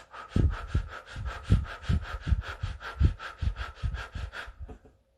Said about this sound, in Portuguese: fazer uma respiração pela boca e de uma forma um pouco mais acelerada